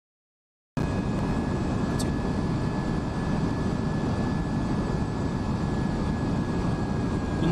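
Steady, loud airliner engine roar from a Boeing 737 MAX 9 on landing approach into Boston in the Aerofly FS Global flight simulator, heard from beneath the wheels, starting abruptly after brief silence and holding a constant broadband drone with a thin whine.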